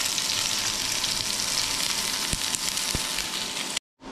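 Sliced onions frying in a pan for a crab roast give a loud, steady, close sizzle that continues without a break and then cuts off abruptly near the end.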